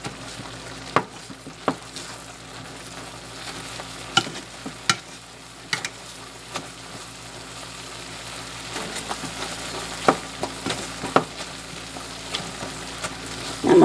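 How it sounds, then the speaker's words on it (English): A utensil scrapes and thumps through thick refried beans in a pan, with irregular close knocks and stirring sounds over a faint low sizzle. "I'm going to go ahead and start mashing them because we're also going to be adding cheese"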